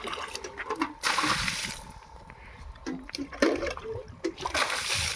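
Water splashes against a car tyre during a hand wash, coming in two loud, hissing bursts separated by quieter dripping and trickling, heard close up with a few faint knocks.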